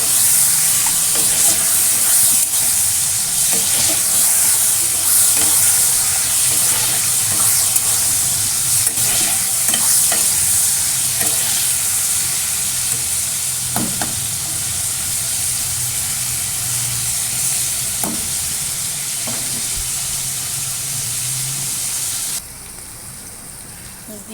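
Turmeric-rubbed prawns fry in a hot pan with a loud, steady sizzle and hiss that runs the whole way through, broken by occasional scraping and stirring clatter, with no talking.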